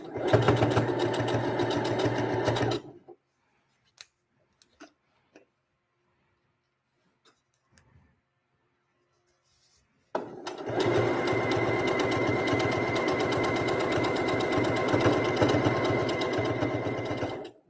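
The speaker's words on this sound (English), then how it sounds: "So you can just sew as normal." A sewing machine stitches in a loud, fast, steady whir for about three seconds, goes nearly silent apart from a few small clicks, then runs again steadily for about seven seconds.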